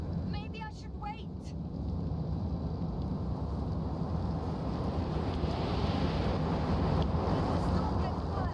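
Storm wind roars steadily in The Invincible, a deep rumbling gust-laden howl that builds slightly and holds loud throughout, with brief faint mechanical chirps near the start.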